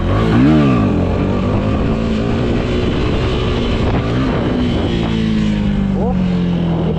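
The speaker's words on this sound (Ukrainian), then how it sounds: "даєте газу, допоки ваш мотоцикл не починає брати високий вгон" A motorcycle engine revs up under throttle for a stunt balance run, loud and close, its pitch rising and falling in sweeps as the gas is opened and eased off, continuous throughout.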